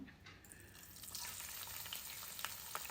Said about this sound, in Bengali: শুটকি মাছ ভেজে নেব